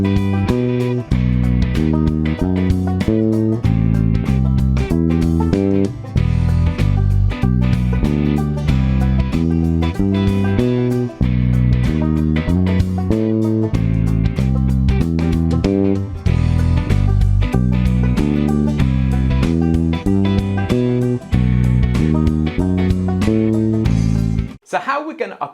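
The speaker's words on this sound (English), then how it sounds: "let me play you that walking bass line over the backing track so you can hear it in context." Walking bass line played over a full backing track, steady stepping notes running continuously beneath drums and chords, loud and close throughout before stopping abruptly at the end.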